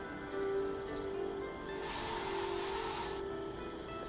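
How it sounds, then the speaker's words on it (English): A spray can of weed killer in the post-apocalyptic survival game I Am Future lets out a single steady hiss lasting about a second and a half, over a soft, sustained musical drone. "with the spray, you can see our spray can is already only half full"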